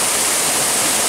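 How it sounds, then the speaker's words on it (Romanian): A waterfall in the Cheile Pravului gorge produces a loud, continuous broadband rush of falling water, steady and close, with no voices over it. "Ia o cascadă interesantă."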